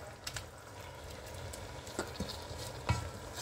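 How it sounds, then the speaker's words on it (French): Matembele (cassava leaves) cook in oil with onion, making a soft, low sizzle with occasional light taps and stirring sounds. "Ça va cuire avec l'huile."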